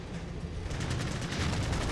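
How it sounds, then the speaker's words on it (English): Rapid gunfire in the video game Dark Cloud 2 on PS4, set around a train: a dense, continuous rattle of shots that grows a little louder and more clipped partway through, with no voices over it. "Almost sounds like gunfire."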